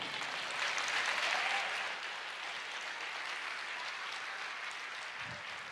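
Steady, sustained applause from a large church congregation fills the space, swelling slightly early on and then holding at an even level.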